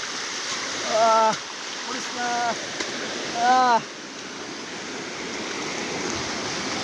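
Rushing water from the large Napittachhara waterfall fills the background with a constant broadband rush, while a few short excited vocal exclamations rise above it in separate bursts.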